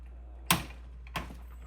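A torque wrench tightening to 40 on an AR-15 part gives two sharp, faint clicks about half a second apart in a quiet room.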